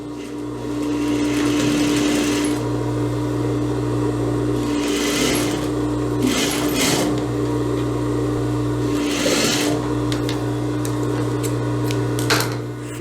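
A sewing machine topstitches the ruffle of an eyelet lace blouse with a steady, close mechanical whir. Short bursts of faster stitching break through the hum several times, and no voice is heard over it.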